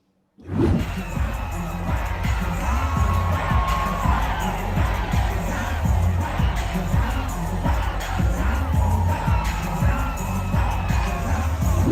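A large crowd cheers and shouts outdoors at a Juneteenth celebration in Los Angeles, a dense continuous roar of voices with whoops rising over it after a sudden start.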